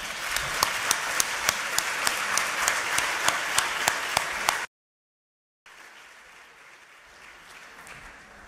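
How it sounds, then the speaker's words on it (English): Audience applause at the opening roundtable of an academic conference on African studies, a dense steady clapping for several seconds that cuts off abruptly, then a quieter patch of scattered clapping and room noise. "this is really worth of a big round of applause"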